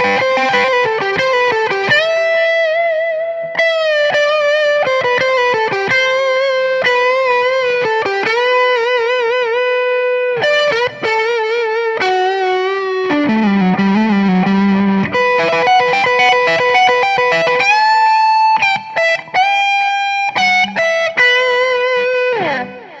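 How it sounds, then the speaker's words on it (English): Electric guitar lead lines with overdrive on the neck pickup play sustained, singing notes and quick runs in clear phrases with short gaps, alone and close, with a light delay tail. "I've got some overdrive on and I'm in the neck pickup"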